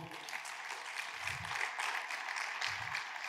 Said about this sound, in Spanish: darle un aplauso bien lindo al Señor.